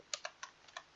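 A few separate keystrokes on a computer keyboard as a number is typed in, sharp clicks spaced unevenly, close and fairly quiet with no talk.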